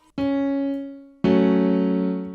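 A single synthesized note sounds and fades in FL Studio 20, then a fuller, richer chord of several tones enters loudly and sustains.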